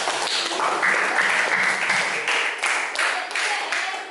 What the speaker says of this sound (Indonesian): terus tepuk tangan dulu buat Revanga.